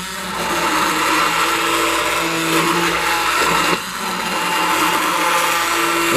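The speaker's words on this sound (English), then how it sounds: "now I'm going to use my stick blender to blend this to a light trace" Stick blender whirring steadily through hot process soap batter, a continuous loud motor drone with a brief dip partway through, no voices over it.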